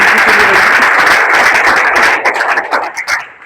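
Audience at a school event giving loud, dense applause that holds steady, then thins into scattered claps and fades near the end.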